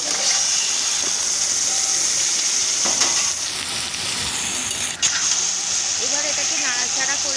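Marinated mutton sizzles loudly as it fries in a pan with onions, ginger and garlic for mutton kosa, a steady broadband hiss with brief stirring scrapes and a sharp clatter midway, under occasional speech.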